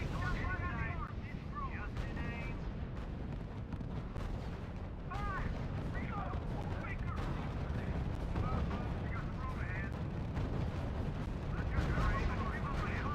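Gunfire and artillery from the strategy video game RUSE sound as repeated sharp reports and booming blasts over a constant rumbling backdrop, with radio-style voices and chatter heard in between.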